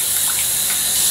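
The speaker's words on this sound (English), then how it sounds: "Put the rinse water in the toilet." Rinse water poured into a toilet in a bathroom, a loud close splashing gush that runs steadily for about a second without pause, with no talk.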